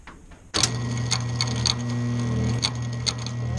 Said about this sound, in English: it looks like my pump is working. It's kind of rattling a little bit